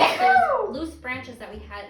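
A single sharp sneeze bursts out at the start, loud and close, followed by a person speaking.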